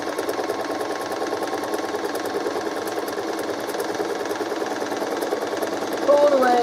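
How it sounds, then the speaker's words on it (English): Sewing machine running steadily as it stitches a quarter-inch seam on a half-square triangle quilt block, a continuous whirring hum at moderate level that brightens near the end. "we're going to sew"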